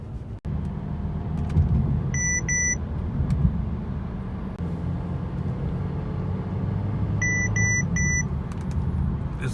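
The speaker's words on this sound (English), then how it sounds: "This was the distance alert program that alerts you when you come too close to a car" Two short bursts of rapid electronic beeps from a 2015 Mercedes-Benz C300 Sport's distance alert, each a quick set of three tones, over a steady engine and road rumble.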